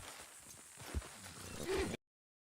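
In Red Dead Redemption 2, a horse plods along with soft, muffled hoof clops and low thuds, quiet and somewhat distant, before the sound cuts to silence.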